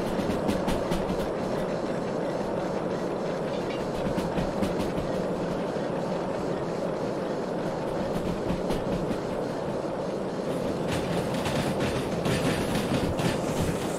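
A train locomotive in the Derail Valley simulator rolls steadily with continuous rumbling and clickety-clack of wheels on rails, loud and unbroken with no talk.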